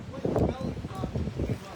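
Wind buffets a microphone outdoors, producing low rumbling gusts and rustle while a person speaks over it.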